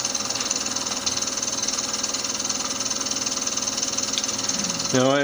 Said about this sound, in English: I'm using 1300 RPM on the spindle, and I'm advancing the tool at 2 inches per minute.